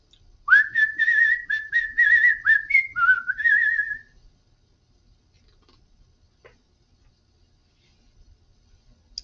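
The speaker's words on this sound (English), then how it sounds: "She could whistle many catchy tunes." A person whistles a lively tune, bright and close, for about three seconds, then quiet with only faint small noises.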